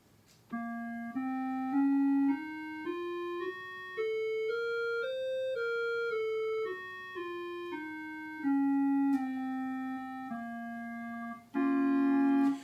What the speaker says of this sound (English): So that's the harmonic minor.